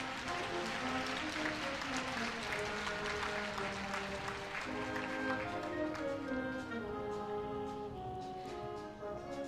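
An audience at the Korea University 2018 freshman entrance ceremony claps steadily in a large hall, with moderate and continuous applause that thins out toward the end while a sustained musical tone plays underneath.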